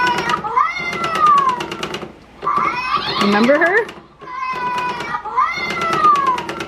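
A battery-powered toy cat gives a series of synthetic electronic meows after its button is pressed, loud and close, with brief pauses between calls while a person speaks over it.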